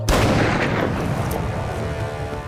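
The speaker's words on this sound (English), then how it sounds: "One day, gunfire does ring out over the lake." A single loud gunshot boom cracks out over a lake, then rolls away in a long fading echo across the open water.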